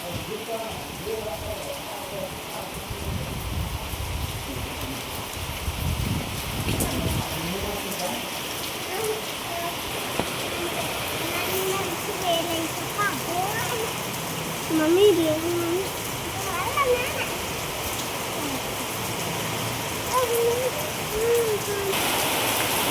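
Heavy rain pours steadily in a dense, constant hiss, with people talking now and then beneath the downpour.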